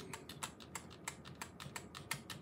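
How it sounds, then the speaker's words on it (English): Delete key on a computer keyboard pressed over and over: a fast, quiet run of sharp plastic clicks in an uneven rhythm, close by, with no talking. "I'm still mashing the delete key so that I can get into the BIOS."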